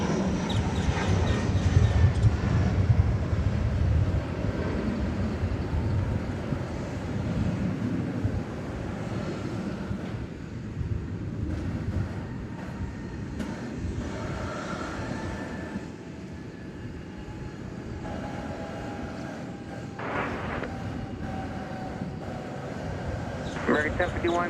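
Embraer E-Jet aircraft at DFW Airport, a broad continuous jet engine roar heard from a distance over about twenty-five seconds, with radio chatter and talk mixed in.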